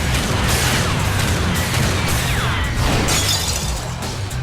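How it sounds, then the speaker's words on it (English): Glass mirror shattering in the video game Deus Machina Demonbane, a loud dense crash of breaking debris and booming impacts that fills the whole stretch without letup. "The mirror shatters, the sword breaks, and as the monsters vanish, the sword and mirror turn to pages."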